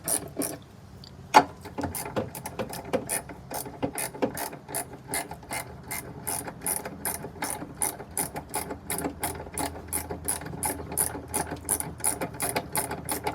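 Ratchet wrench loosening the battery terminal nut on a truck, a steady run of close, crisp clicks in quick repeated strokes with a brief pause near the start, no talking.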